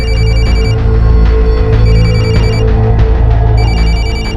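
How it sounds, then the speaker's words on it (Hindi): A telephone bell rings inside a house in steady repeated bursts, loud and continuous with a dense low hum beneath it, no voices. "फोन की आवाज तो अंदर से आ रही है।"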